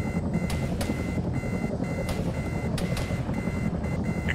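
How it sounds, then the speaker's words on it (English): Repeated electronic beeping alarm inside a helicopter in the military shooter Arma 3, a steady pulsing series of loud tones over continuous rotor and engine roar, with no talking. "Ignore the beeping alarm."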